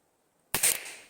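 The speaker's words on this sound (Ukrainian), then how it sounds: "Давайте ще два додамо. Ще два постріли." Single sharp report of a Flobert rifle fired outdoors in frost, with a short tail afterward; one loud close shot following near-silence.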